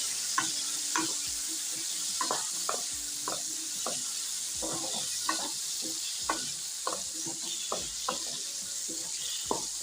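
Tindora (ivy gourd) with turmeric and salt is stirred in a pan over a steady sizzle, the spoon making repeated short scraping knocks against the vessel at close range, with no talk.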